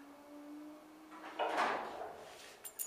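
A Marantec garage door closing fully, with a steady motor hum that gives way to a short scraping slide and a soft thud as the door reaches the bottom, followed by a couple of faint clicks.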